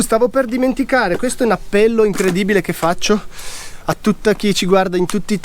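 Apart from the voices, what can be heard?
No everyday noises stand out.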